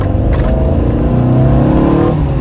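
A Porsche 914 fitted with a new exhaust revs loudly and close by, its engine note rising and falling in a continuous raspy drone for a couple of seconds with no talking.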